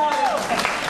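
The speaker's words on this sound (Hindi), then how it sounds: "जोरदार ताली बजाएं इनके लिए यार," Brief audience applause at a launch event for a children's dance company, a short burst of clapping mixed with voices and tonal background sound.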